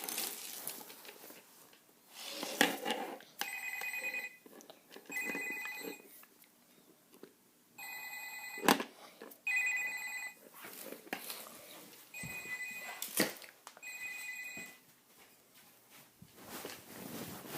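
Telephone ringing while a call is placed to the police, several evenly spaced bursts of bright electronic ringing separated by pauses, with soft thuds and movement between rings.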